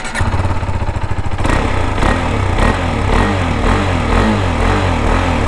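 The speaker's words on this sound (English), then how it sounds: "I'll just make you hear the exhaust sound" Exhaust note of a KTM RC 390 motorcycle running steadily, a loud, close, slightly muffled single-cylinder thrum with rhythmic pulsing and small revving swells throughout, no talking.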